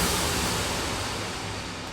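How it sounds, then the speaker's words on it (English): A car crash sound effect drenched in heavy reverb and delay: a wash of dense, hissing noise fills the space, slowly fading in a long reverberant tail with no distinct impact left. "That is the sound of a car crashing with a load of reverb on it and delay."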